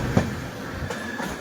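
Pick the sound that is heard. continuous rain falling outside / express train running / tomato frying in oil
express train running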